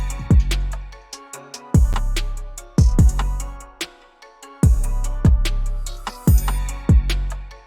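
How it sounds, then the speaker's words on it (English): Electronic melodies run through a sidechain clipper keyed from the kick, so each loud kick hit clips the melodic layer into a rhythmic pumping pattern of repeated punchy beats, played alone with no talking. "Now put a sidechain clipper on the melodies."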